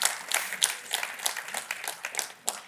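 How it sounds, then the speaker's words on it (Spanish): A church congregation applauding during a sermon, a moderate crowd of individual claps, fairly close, with sharp distinct hand strikes over a thinner background of clapping. "puede decir amén y darle un aplauso al Señor que lo hizo su hijo"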